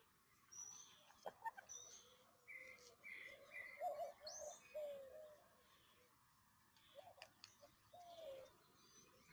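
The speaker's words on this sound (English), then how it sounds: "When she hears the doves" Doves coo softly in the distance outdoors, a few faint repeated coos mixed with scattered bird chirps over steady background noise, with no talking.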